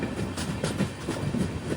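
Jan Shatabdi Express rolling on the line toward Mayiladuthurai, heard from inside as a steady low rumble with rhythmic clickety-clack of wheels over rail joints.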